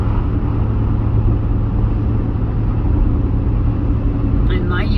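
Steady wind roar and road rumble inside a moving 2004 Chevy Tahoe with a door not fully shut, a loud, constant broadband whoosh filling the cabin throughout, with a voice starting briefly near the end.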